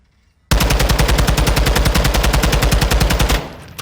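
Sustained automatic gunfire from a low-recoil weapon in the video game Modern Warfare II, a loud, evenly spaced burst of about three seconds of rapid shots that starts abruptly and then cuts off.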